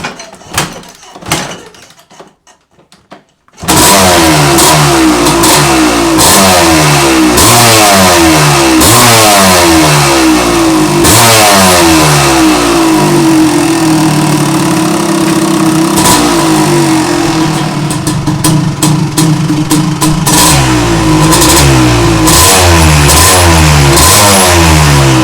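1987 Kawasaki KX250 two-stroke dirt bike engine, very loud and close, revving up and down repeatedly in rapid rising and falling sweeps for over twenty seconds after a few brief clatters at the start.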